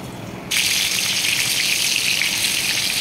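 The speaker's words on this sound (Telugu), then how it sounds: "ఇప్పుడు వంకాయలు ఒక్కొక్కటి వేసుకొని వేయించుకోవాలి." Eggplants (vankaya) dropped into about three ladles of hot oil for masala vankaya set off a sudden loud, steady sizzle of frying that starts after a brief quiet moment and continues evenly throughout.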